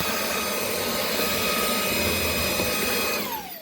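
A vacuum cleaner whines steadily and loudly up close, its motor pitch dropping as it begins to power down at the end.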